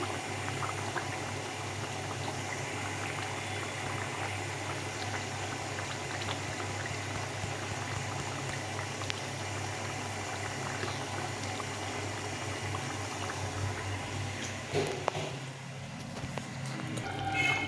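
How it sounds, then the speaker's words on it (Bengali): A pot of small rohu fish curry broth with potato and eggplant boiling steadily, a continuous close bubbling rumble that stays even throughout and swells slightly near the end, with no voices. "ঝোলটা ফুটে গেছে ভালো করে"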